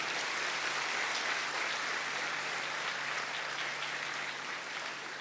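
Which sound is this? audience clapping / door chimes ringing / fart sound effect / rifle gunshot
audience clapping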